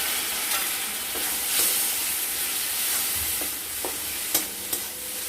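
Ground spices frying in a pan with a splash of hot water for egg pulao, a close steady sizzle and hiss with scattered scrapes and taps of the stirring spatula and a couple of sharper knocks, with no talking.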